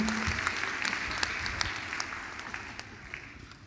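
A church congregation applauds, with steady clapping that fades gradually over a few seconds.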